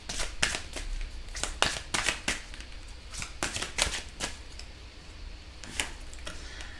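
Cards being handled and drawn from an oracle card deck, a series of crisp, close slapping and flicking snaps in irregular bursts, with no talking.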